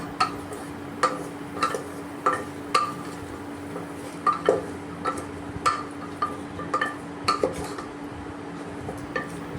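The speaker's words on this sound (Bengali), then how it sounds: "এর মধ্যে আমি এবার ভাজা মশলাটা দিয়ে দিচ্ছি, দিয়ে আমি একটু ভালো করে নেড়ে নেব" Fried spices stirred into rajma dal in a cooking pot, heard as a series of close metallic clinks and scrapes of a spoon against the pot at a steady, irregular rhythm over a low hum, with no talking.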